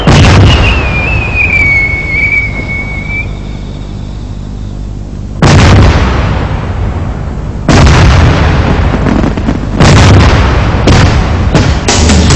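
Diwali firecrackers burst in loud booming blasts, several separate explosions spaced a few seconds apart, each with a ringing decay, and an earlier whistling rocket streaks upward before the bangs.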